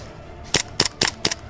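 Gunshots in a skirmish game as a player fires: four sharp, snappy cracks in quick, fairly even succession, close and loud, with no talk over them.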